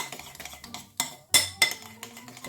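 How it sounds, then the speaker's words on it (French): Baking soda being mixed into lemon yogurt cake batter in a bowl, with a utensil scraping and clinking against the bowl in a few sharp knocks and softer stirring strokes, close and moderately loud. "Je mélange bien"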